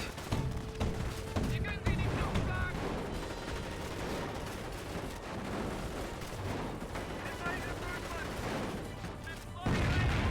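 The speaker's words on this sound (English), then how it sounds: "Mortar emplacement does get a decent shot there. Everyone fires burst off there." Battle audio from the real-time strategy game Company of Heroes, with dense bursts of small-arms fire and thudding mortar shots in a steady rolling barrage.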